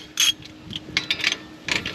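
Quick ratcheting clicks from a wrench tightening a wheel fastener on a 2013 Dodge Avenger come in a few short, close bursts of metallic ticking.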